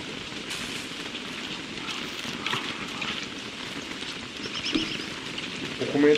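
Intense rain falling in Don't Starve Together, a continuous hissing patter with scattered small game noises on top and a louder swell near the end.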